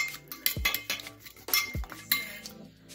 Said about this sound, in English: And then give it a stir.